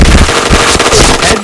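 Rapid bursts of video game gunfire crackle loudly in quick succession, a dense, sharp volley scoring a headshot.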